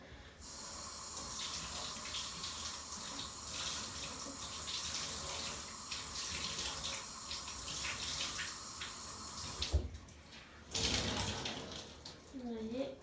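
Lukewarm tap water runs steadily into a sink while a face is rinsed clean of a charcoal mask, a continuous close splashing stream that breaks off near the end with a few short splashes.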